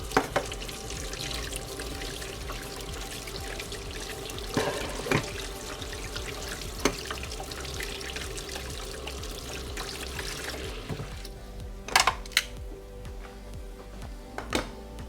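Cold water splashed over a roasted pepper so its skin will peel, a steady rushing and trickling flow with a few brief clinks and splashes near the end, continuous and close, with no talking.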